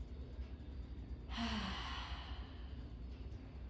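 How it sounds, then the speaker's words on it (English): A single deep breath drawn in and released during a yoga practice, soft and close, a brief breathy sigh in an otherwise quiet room. "One more big breath like this."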